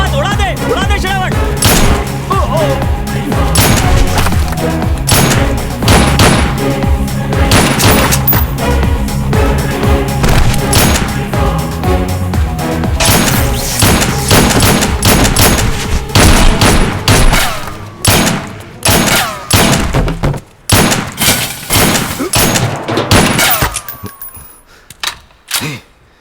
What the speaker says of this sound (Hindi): इनको छोड़ना मत। उड़ा दे श्रावण।